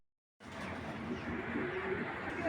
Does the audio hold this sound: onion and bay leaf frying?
no